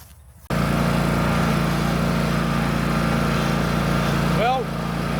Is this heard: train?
no